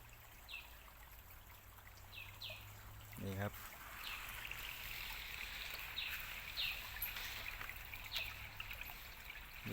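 A small forest stream trickles and flows steadily with a soft, continuous water sound, faint and close, with occasional brief birdlike chirps over it.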